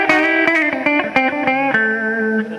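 An electric guitar plays with both pickups on in a reverberant chapel, loud distorted picked notes in a quick run that settles into a sustained ringing chord.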